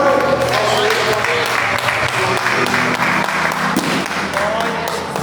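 A church congregation claps together in steady sustained applause, loud and close, with voices and speech mixed in underneath throughout.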